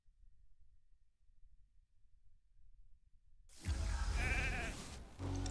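A sheep ability in a video game gives a loud, close bleat that wavers and warbles for over a second, following a long stretch of near silence.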